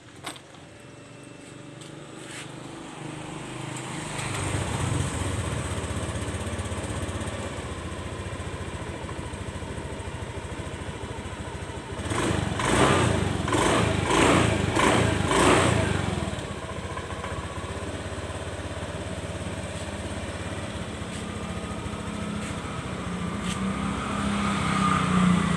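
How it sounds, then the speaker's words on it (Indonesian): A Honda Beat FI scooter's small fuel-injected engine starts up and idles, then revs up in a burst midway before settling back to a steady idle, heard up close with no talk. "motor kita hidupkan."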